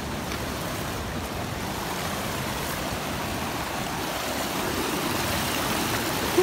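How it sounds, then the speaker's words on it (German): A steady rush of water from a fairly large stream on the way to the Schweizer Schlucht gorge fills the whole clip, an even, continuous babble without pauses or voices. "Ziemlich großer Bach, Fluss."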